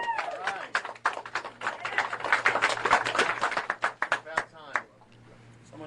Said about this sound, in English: I say we give these guys a round of applause